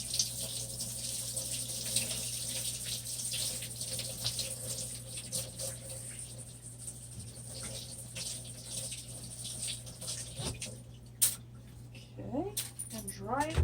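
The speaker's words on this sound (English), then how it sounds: "Let's rinse this off." A paintbrush is rinsed in water, with a steady low trickle and splashing running throughout, a sharp clink near the end, and soft movement noises underneath.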